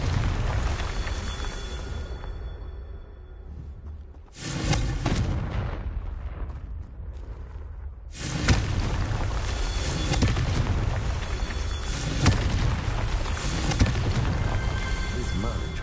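Blasts from the Confringo fire spell in the fantasy game Hogwarts Legacy, loud booming bursts near 4 and 8 seconds followed by sustained roaring rumble, with a voice talking over parts of it.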